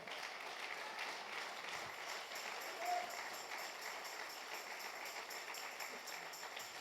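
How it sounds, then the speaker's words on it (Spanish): A church congregation applauds the Lord, a soft, steady patter of many hands clapping at a distance, continuing evenly at low volume for several seconds. "Denle un fuerte aplauso al Señor"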